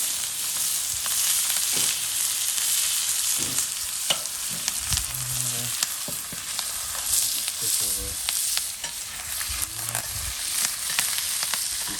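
Halibut sears in butter with garlic and herbs in a hot pan, a continuous close crackling sizzle broken by occasional spoon scrapes and spatters over twelve seconds.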